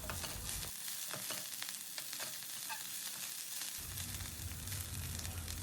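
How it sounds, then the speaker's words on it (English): Blanched broccoli florets sauté in oil in a pan over a medium flame, giving a steady close sizzle with scattered clinks and scrapes of stirring throughout. "now on medium flame we will saute the broccoli florets for 1 to 2 minutes by occasionally stirring them in between"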